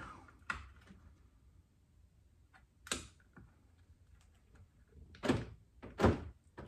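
Several sharp mechanical clicks and thunks spaced irregularly from a 2018 Honda CR-V door lock actuator cycling, close up in a quiet room.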